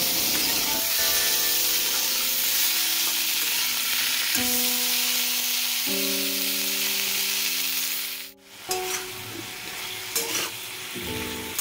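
Vegetables, peas and spices sizzle steadily in a hot pan, a loud continuous frying hiss with a brief clatter near the end.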